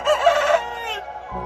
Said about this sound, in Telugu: చెట్టు మీద కూర్చొని ఉంటాయి ఇంకా రెండు కోళ్ళు